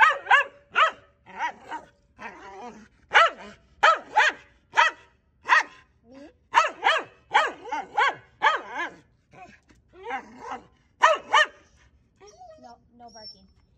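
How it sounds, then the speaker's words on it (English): A dog barks repeatedly in short, lively bursts, mixed with yips and whiny vocal sounds, fairly close and with brief pauses between. "No barking."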